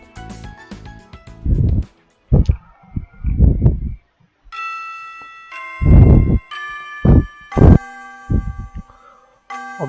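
A school bell chimes in a visual novel video game, a bright, ringing electronic tone in several sustained strikes that alternate with louder spoken or musical bursts, moderately loud and close.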